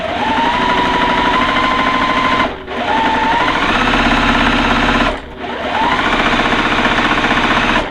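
A sewing machine runs loud and close stitching quilt block pieces, a steady rapid mechanical whir in three long runs separated by two brief pauses.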